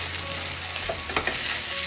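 Softened tomatoes mashed in a hot cooking pan, a close steady sizzle with soft squelching presses and a light scrape of the utensil partway through.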